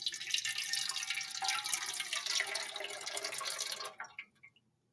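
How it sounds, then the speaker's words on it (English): Water pours steadily into a container with a bright splashing rush for about four seconds, then stops abruptly, leaving a few trailing drips before silence. "Adding 100 milliliters of water."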